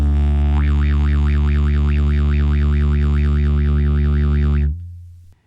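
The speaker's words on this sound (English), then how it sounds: "try to go as fast as you can from O to E." Didgeridoo drone with a rapidly wobbling overtone sweeping back and forth between O and E vowel shapes, a loud steady tone held for several seconds before stopping abruptly.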